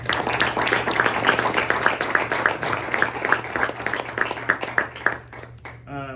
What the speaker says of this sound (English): Let's give Coach a round of applause real quick.